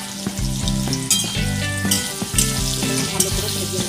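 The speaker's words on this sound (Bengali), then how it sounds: "আমি পটল কটা ভেজে নেব। পটলটার মধ্যে একটু হলুদ দিয়ে দেবো," Pointed gourd pieces with turmeric and salt fry in hot oil in a pan, a loud, close, continuous sizzle broken by stirring clatter, with no talking.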